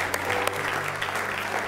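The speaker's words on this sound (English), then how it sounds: "Give him one more good hand clap of praise tonight, Brother Terry, if you'd come." A church congregation claps in a burst of applause during a worship service, a dense and steady patter of many hands at moderate loudness lasting the whole moment.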